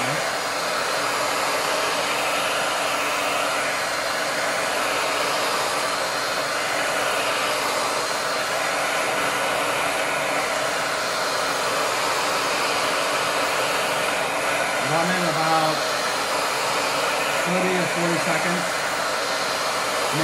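A heat gun set to high heat shrinks a face mask, blowing with a loud, continuous hair-dryer-like roar that stays steady throughout, with a few faint tonal chirps near the end.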